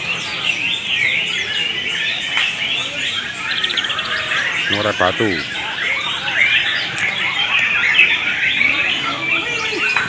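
Many songbirds at a singing contest chirp and squawk in a dense, continuous chorus, with someone speaking briefly partway through.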